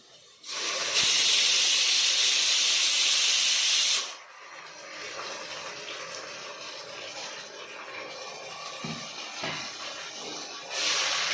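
Ground masala paste hits hot oil with browned onions and bursts into a loud, steady hiss for a few seconds, then settles into a quieter, continuous sizzle that swells again at the end.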